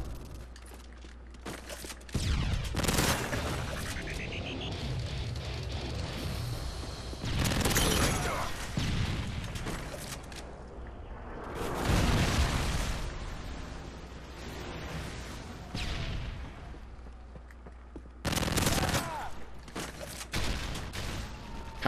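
Gunfire in the video game Modern Warfare 3 during a free-for-all match, several bursts of rapid automatic shots with quieter gaps between them.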